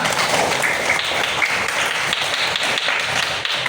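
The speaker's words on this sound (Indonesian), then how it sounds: "tepuk tangan dulu kita semua" A classroom of children clapping together, steady and fairly loud, with no talking over it.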